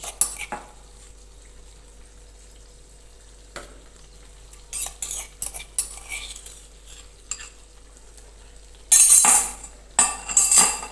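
Eggplant and potato stirred with ginger garlic paste in oil in a pan, faint sizzling with scattered spoon scrapes and clinks that grow louder and busier toward the end.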